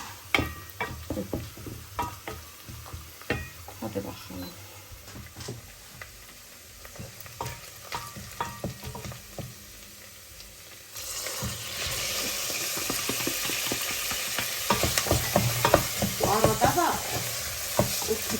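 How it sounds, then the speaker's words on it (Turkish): Potatoes sizzle and crackle in a hot pan, with occasional stirring scrapes; the frying grows louder and busier partway through. "Biraz da patates falan kızartayım."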